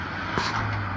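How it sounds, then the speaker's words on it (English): A gardening truck passes along a valley road below an apartment, a steady broadband engine and road rumble that swells briefly at mid-distance with a constant low hum beneath. "and the gardening truck."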